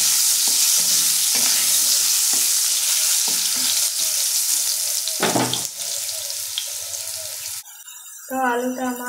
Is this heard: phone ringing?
no